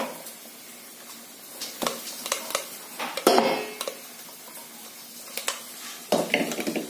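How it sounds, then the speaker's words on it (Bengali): Cooked rice is drained into a metal bowl, a pot and lid clattering and clinking in scattered bursts, with a brief rush of pouring water midway. "এই ভাতটা আমি গলে নেব এই গামলাটায়"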